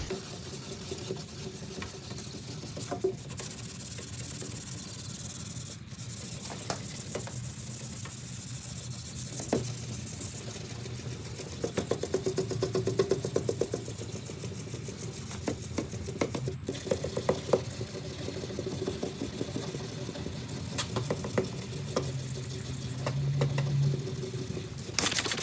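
A headlight lens is wet sanded with a pad from a Cerakote ceramic headlight restoration kit, moving in non-circular strokes. It makes a steady, continuous wet scrubbing and rubbing with faint water sounds, close and even in level throughout.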